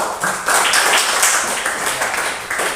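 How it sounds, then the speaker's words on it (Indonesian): A group of children claps loudly and close by, rhythmic bursts of hand claps in a classroom setting, repeating in quick, patterned beats with no talk over them. "tepuk tangan luar biasa"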